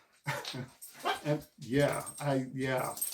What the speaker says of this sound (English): That noise you're hearing right now is the dogs.